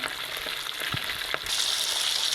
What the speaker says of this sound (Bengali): মাছগুলো ভাজা ভাজা হয়ে গেছে